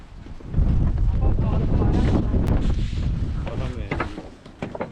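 Strong wind buffets the microphone on an autumn mountain peak, a loud low roar that swells after the first half second and stays steady before easing slightly near the end.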